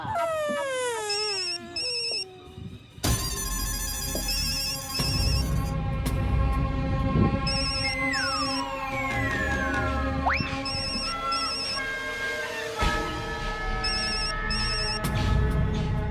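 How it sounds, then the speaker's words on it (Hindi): A telephone rings repeatedly with an electronic ringtone over busy background noise and occasional crying sounds. "आपका फोन बज रहा है"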